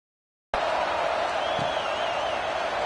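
A football stadium crowd at an AKFL game between Monarch and Rangers keeps up a steady, dense buzz of voices and cheering throughout, loud and continuous after a brief silent start.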